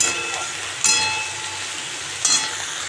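Potatoes and onions fry in a pan with a steady close sizzle, broken by two louder bursts as the contents are stirred.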